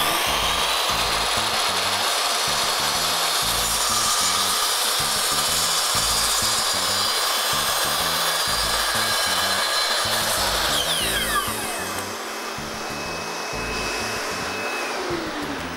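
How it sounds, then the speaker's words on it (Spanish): A miter saw (ingletadora) cutting through wood runs with a loud, steady whine that holds for about eleven seconds, then shifts and drops slightly as the cut finishes and the motor keeps spinning. "Ponemos en marcha la máquina y empezamos a cortar."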